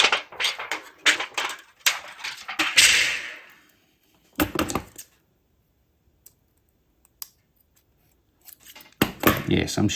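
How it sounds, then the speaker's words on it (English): Scissors snipping through plastic strip material for model railway power pick-ups, a quick run of sharp clicking cuts followed by scattered faint snips, with brief speech near the start and end. "I think my scissors will take care of the rest."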